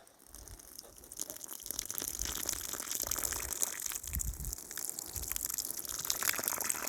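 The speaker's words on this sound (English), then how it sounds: "And then I'm going to water into the hole." Water gushes steadily from a can or hose into a compost-mixed planting hole for tomatoes in a garden, a close, continuous splashing pour lasting several seconds with no talk.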